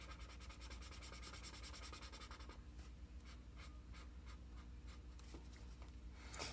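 Crayola Supertips markers rub back and forth over paper in steady, faint scratchy strokes, close up with no talking.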